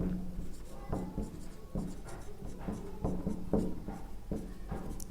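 Pen writing on paper while working a trigonometry problem in a maths lesson: steady scratchy strokes with rhythmic taps as symbols are written, close and fairly quiet, with no talking.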